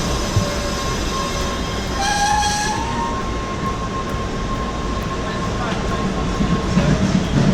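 A subway train pulls into a station in Boston, its steady rumble and rail noise filling the platform with a brief high squeal and tonal whine, loud and continuous throughout.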